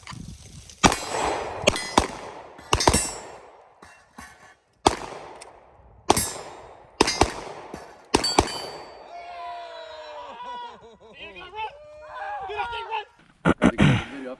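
Gunfire rings out on a falling steel target course during shooting training: a string of sharp, loud shots with metallic clangs from struck plates. Ringing metal tones follow, and voices speak in the background.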